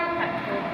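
A GWR train sounds a loud, close two-tone horn that holds steady through the short moment, with rail noise underneath.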